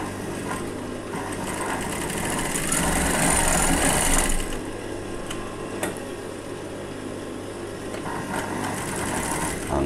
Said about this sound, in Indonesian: Kita jahit dulu dari sini.